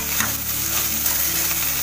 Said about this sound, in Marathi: हे असं परतून घेते मी आणि दाखवते तुम्हाला